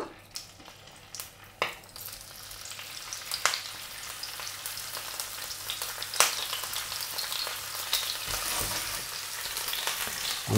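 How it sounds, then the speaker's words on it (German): Shrimp dropped into hot oil set off a growing, hissing sizzle after a few clinks and taps, swelling into loud, dense crackling frying, close up. "Wenn das Öl heiß ist, geben wir unsere Garnelen rein."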